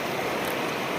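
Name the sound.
strong river current flowing over sand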